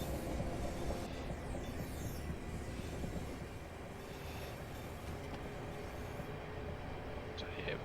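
A train in the Train Simulator 2020 video game rolls along with a steady, loud rumble of wheels and engine noise that holds even throughout, with no break.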